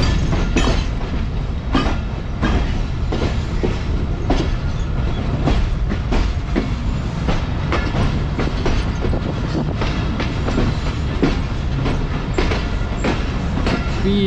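A passenger train runs on rails in winter, with steady wheel rumble and a regular clickety-clack from rail joints throughout. The sound is loud and close, continuous, with no talking.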